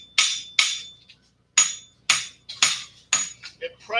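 Blacksmith's hammer strikes hot steel while forging tongs at a guild demo, seven sharp ringing blows in an uneven rhythm with short metallic decays and brief pauses between them.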